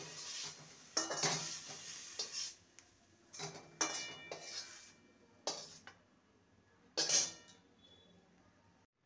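Cooked pumpkin leaves are scraped from a pan into a bowl with a metal utensil, giving several separate clinks and scrapes in quiet surroundings, with no talk.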